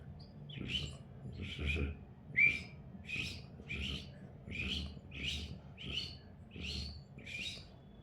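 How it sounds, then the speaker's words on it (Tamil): A myna perched in a garden tree gives a rhythmic series of about nine repeated whistled calls, evenly spaced and moderately close over a faint low background. "இது தோட்டத்தில் பார்த்தா மரத்தில் மைனா உட்காந்துக்கிட்டு இருக்கோம்."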